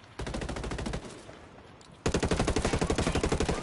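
Two bursts of rapid automatic gunfire in the video game Ghost Recon Wildlands, a short volley then a longer, louder string of evenly spaced shots, with no talking.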